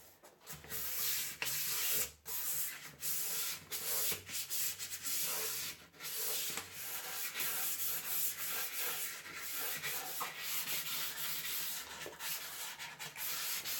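Continuous abrasive rubbing of sandpaper on the wood of an end table, steady and close, with brief pauses and shifts in stroke, no voices.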